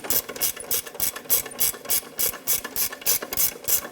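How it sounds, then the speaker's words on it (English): A ratchet clicks in quick, regular bursts as it snugs down the rear strut nut on a 2010-2014 Subaru Outback, the strokes close and even, with no voices. "snug the nut down."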